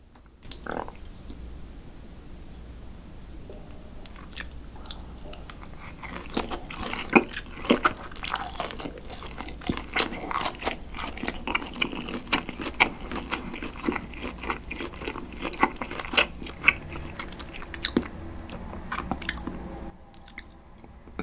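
Close, wet chewing and biting of bibim naengmyeon noodles and charcoal-grilled pork galbi, with soft squishes and crunches in a steady rhythm and no talking.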